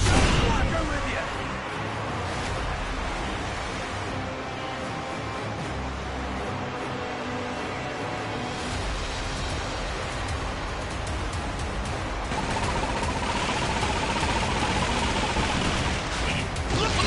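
Cannon fire from a pirate ship battle in the video game Yakuza, a dense, continuous roar of blasts and crashing booms layered with game noise for the whole stretch.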